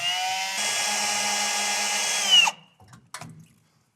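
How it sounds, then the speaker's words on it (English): A power drill whines loudly and steadily while drilling out rivets, then cuts off abruptly, followed by a few brief clatters and taps of the tool and metal. "That way I can put some of my weight on the drill and hopefully get these rivets out quick."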